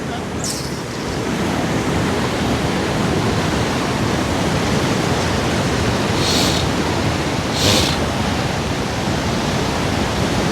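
Floodwater in Portland, Jamaica rushes in a steady, loud, unbroken roar throughout, with a few faint sharp ticks riding on top.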